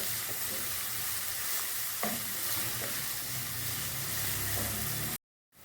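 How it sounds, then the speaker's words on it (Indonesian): Shallots sautéing in a pan give a steady, close sizzle with a few faint scrapes of stirring, continuous for about five seconds before cutting to silence. "Sekarang kita tumis dulu bawang merahnya sampai kecoklat-coklatan ya, atau kemerah-merahan saja."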